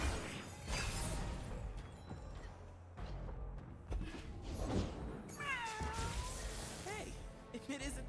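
Cat meowing in the Legends of Runeterra card game, a short series of rising and falling meows near the middle of the clip, layered over busy game music and effects.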